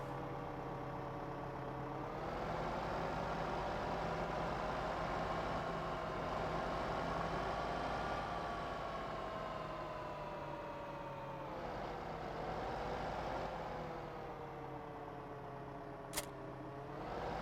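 Tractor engine in the video game Farming Simulator 15, a steady droning motor with harmonic whine that rises and falls slightly as it drives, fairly quiet and continuous, with a single sharp click near the end.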